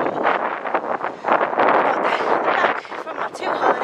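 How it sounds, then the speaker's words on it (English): Wind buffets an outdoor microphone with a steady, loud, rumbling roar that gusts up and down throughout, sounding close and harsh. "I'm back and it's really windy, so you might not be able to hear me."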